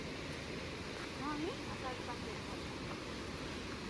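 Waves wash in on a beach in a soft, continuous hiss and rush, heard faintly from a distance with breeze and people talking over it.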